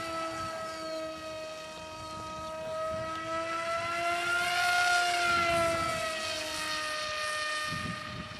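An RC model airplane flies past with a buzzing, whining motor; the pitch rises as it approaches, peaks overhead, then drops as it moves away, fairly distant and with no talking.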